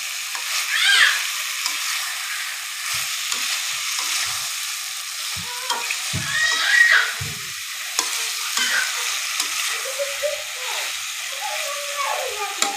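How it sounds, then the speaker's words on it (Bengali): Already-fried potato and bitter gourd pieces stirred in a hot oiled pan, with a steady sizzle and scattered scraping clinks of the spatula, heard alone at moderate volume. "একটু কষাই নেব।"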